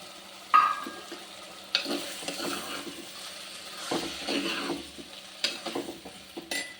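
Boiled cowpeas tipped into a pan and stirred, with scraping spoon strokes, clinks against the pan and light sizzling, intermittent and close.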